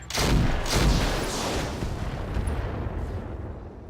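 Ultra autocannon fire in the BattleTech video game (RogueTech), heavy booming bursts that roll into a loud, continuous rumble of blasts.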